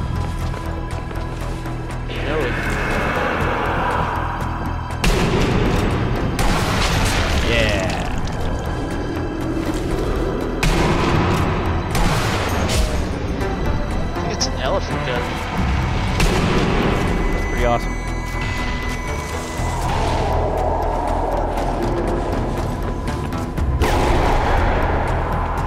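A tripwire explosive going off in the zombie shooter Sniper Elite Nazi Zombie Army, heavy booms and gunfire among running, layered under a player's continuous commentary.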